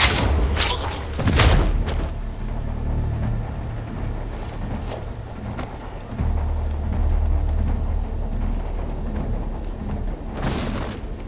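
A video game explosion in Sniper Ghost Warrior Contracts 2: sharp bursts near the start, then a long low rumbling roar that keeps going, with another blast near the end.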